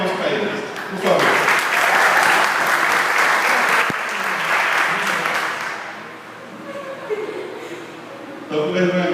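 A church congregation applauds a couple in a steady, loud burst of clapping that swells after a second, holds for several seconds, then eases, with scattered voices and a brief laugh underneath.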